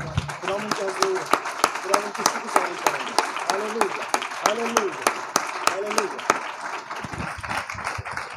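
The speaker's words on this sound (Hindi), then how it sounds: "फिर भी जोरदार तालियां बजाएं प्लीज।" Church congregation clapping during a Mother's Day sermon, a loud rhythmic unison beat of sharp claps that falls into looser scattered applause near the end, with music or voices faintly underneath.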